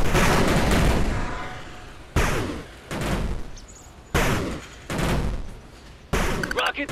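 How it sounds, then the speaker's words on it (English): Gunfire from units in the 8-Bit Armies strategy game bursts out in loud, dense volleys, broken into several repeated bursts with short gaps between them. "Opening fire."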